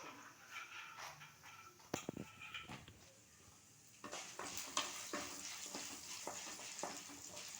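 Tempering seeds for semolina upma sizzle and crackle in hot oil close up, with scattered pops and a stirring clatter; the frying grows livelier partway through.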